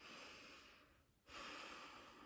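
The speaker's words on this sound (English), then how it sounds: "Breathing in and out through your nostrils" Slow, audible breath drawn in and out through the nostrils during a breathing practice, a soft airy rush that dips briefly in the middle before the next breath, close and alone.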